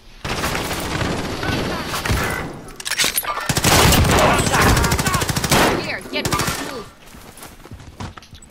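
Heavy automatic gunfire in a Call of Duty Warzone match, long rattling bursts and a few booms, loud and close, with players talking over the shooting.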